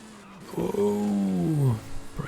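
A race car in Forza Horizon 5 slows for a corner in a seasonal championship event, its engine note dropping in a falling, tonal whine as it brakes, fairly close and loud.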